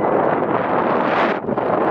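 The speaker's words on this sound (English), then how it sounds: "It's so windy." Strong wind blowing outdoors on a cold day in California, loud buffeting and roaring straight into the microphone, steady throughout with a brief dip near the end.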